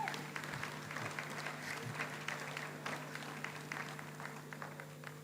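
Applause at a graduation ceremony, a faint, steady patter of many hands clapping in a large hall, sustained for several seconds at a distance.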